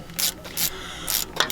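A hand ratchet tightening bolts on a Jeep, clicking in four short bursts of rapid pawl ticks with brief pauses between, close and fairly loud with no voices.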